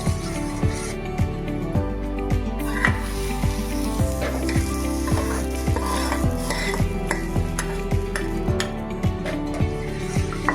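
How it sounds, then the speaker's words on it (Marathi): Rice stirred into hot milk in a pot for kheer, with a regular rhythm of metal spoon scrapes and clinks against the pot over a steady low bubbling hiss, close and moderately loud. "ह्या गरम केलेल्या दुधामध्ये आपण हे तांदूळ टाकणार आहोत"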